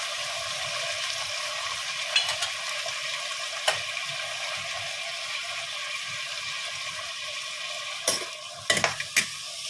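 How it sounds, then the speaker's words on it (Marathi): Chopped vegetables and a bay leaf fry in hot oil in a pan for masale bhat, a steady close sizzle with a few sharp clinks and scrapes of a spoon, strongest near the end, and no speech. "तेल गरम झालंय आपलं, त्याच तेलामध्ये आपण जे तमालपत्र घेतलं होतं ते टाकायचंय आणि ह्या ज्या सगळ्या भाज्या आहेत आपण चिरून घेतलेल्या आहेत त्या एका पाठोपाठ एक यात टाकायच्या"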